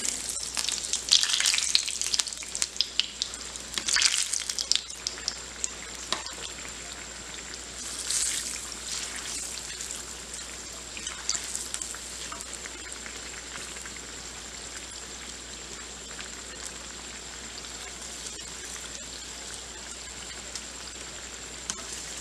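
Semolina dahi vada frying in hot oil in a pan, a steady crackling sizzle that runs the whole time, busier and brighter at first, then settling into an even, continuous fizz.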